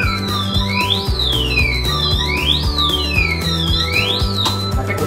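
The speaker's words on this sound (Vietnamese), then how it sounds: "kết sắt của chúng ta sẽ có chuông báo động kêu lên" A Viet Tiep electronic safe alarm wails loudly and nearby, a siren tone sweeping up and down in repeated cycles over a fast pulsing electronic beat, with no voices.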